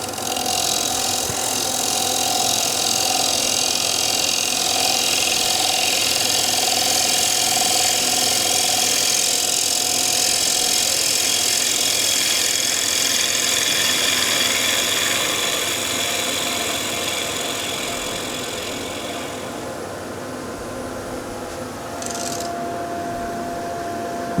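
A wood lathe spins a pin-striped bowl as a gouge takes a final light cut, producing a steady loud whirring hiss with a faint whine that eases toward the end.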